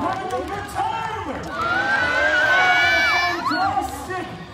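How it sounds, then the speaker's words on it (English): A crowd greets a camel with excited cheers and shouts, children's voices rising loudly and then easing off, while some people talk in between. "A big round of applause for the beautiful, majestic animal."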